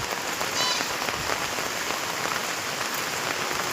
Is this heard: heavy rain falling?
yes